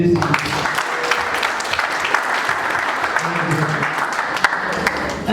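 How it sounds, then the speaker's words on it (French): Wedding guests applaud the couple at a marriage ceremony, a steady patter of many hands clapping for about five seconds, with a few voices mixed into the crowd. "Ok, applaudissez pour les deux."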